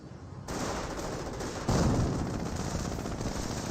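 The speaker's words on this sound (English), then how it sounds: "Wait, was that a mortar? That must have been from the mortar half track." Battle noise from Company of Heroes fills the clip, with mortar fire from a half-track bursting in as a heavier thump midway. Dense gunfire and explosions rumble continuously throughout.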